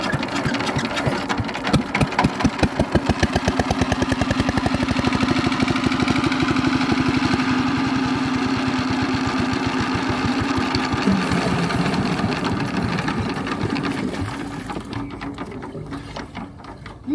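A machine engine runs loud and close with a rapid, steady chugging beat, then slows and fades as it stalls near the end.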